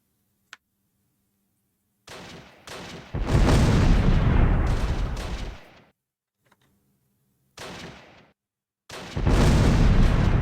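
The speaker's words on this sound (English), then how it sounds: "Look at that. Devastating strikes." Artillery strikes and explosions in the WWII strategy game Close Combat, set during the 1944 liberation of Mortain: a tiny pop, then a few loud, rumbling blasts separated by short silences, ending in another heavy roaring burst.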